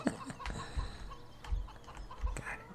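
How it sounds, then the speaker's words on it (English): Chickens clucking in the Farming Simulator 17 farm game, short clucks recurring every second or so against steady farmyard background noise, moderately loud and close. "I heard the chickens singing to me"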